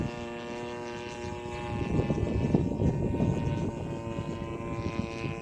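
A small unmanned drone banks through a smooth rudder turn during traffic-pattern practice flying, giving a steady buzzing whine with layered harmonic tones that swells slightly midway, with no talk.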